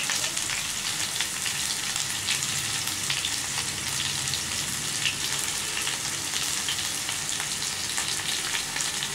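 Chicken drumsticks fry in oil in a pan, giving a steady, even crackle and sizzle with fine popping, alone and without pause.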